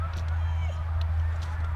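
Geese honking at a late season hunt, a flock calling in scattered honks over a low steady rumble of wind or engine noise outdoors.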